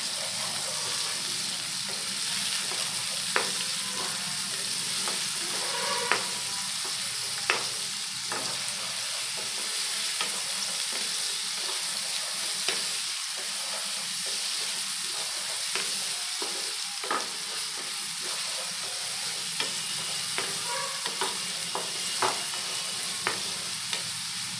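Chicken curry frying in a pan while being stirred, a continuous loud sizzle with regular clicks and scrapes of the spoon across the surface throughout, with no talk.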